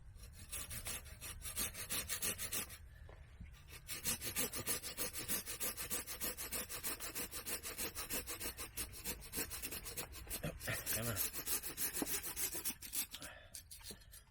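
A razor-sharp hand saw cuts wood for a bushcraft chair, with quick, rhythmic rasping strokes that run almost without a break and stop for a moment partway through.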